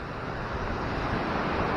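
Steady ocean surf rolls onto Zambales beach, a continuous broad roar of breaking waves with wind noise on the microphone, with no voices.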